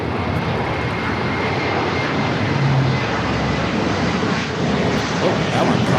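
A Boeing 757-300 airliner at Los Angeles LAX airport roars past, a loud, steady broadband jet rumble filling the whole stretch with a slight swell midway.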